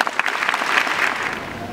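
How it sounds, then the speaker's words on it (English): Graduation ceremony crowd applauding for a 2019 class, a brief steady burst of dense clapping with no speech over it. "Please give yourselves a round of applause."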